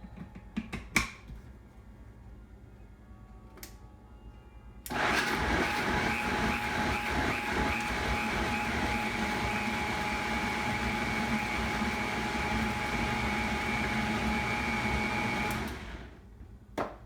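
A food processor blending salsa ingredients starts abruptly with a loud whirring motor drone that holds steady for about eleven seconds, then cuts off, with a few small clicks and knocks before and after.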